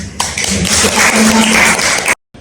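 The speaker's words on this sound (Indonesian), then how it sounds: "Mari kita tepuk tangan untuk Bu Dana sama Bu Tias" A group of people at a bird's-nest processing company event applauds for two women, a dense burst of close clapping lasting about two seconds that then cuts off abruptly.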